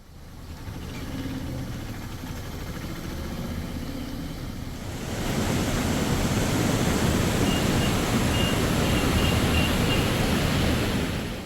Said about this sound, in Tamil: தாமிரபரணி ஆற்றில் வெள்ளப்பெருக்கு ஏற்பட்டுள்ளது